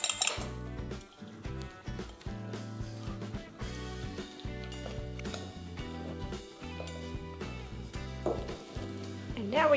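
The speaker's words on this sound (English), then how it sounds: "then we add the whole lot back and stir it around quickly" Spoon stirring a tempered egg mixture in a metal pot for spinach and feta filling, with quick, rhythmic scraping and clinking against the pot's sides, close and steady, with talk at times.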